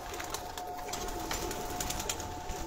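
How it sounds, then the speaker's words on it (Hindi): Desi pigeons cooing on a rooftop, soft low throaty coos over a steady outdoor background hum, continuous and fairly faint, no talking. "ये वेशी कबूतर है"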